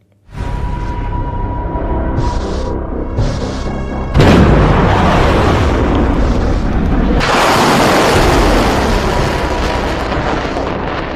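A Sejjil ballistic missile launching sends a loud, sustained roaring blast that swells abruptly twice into a heavier rumbling boom, continuous and powerful for about eleven seconds with no voices.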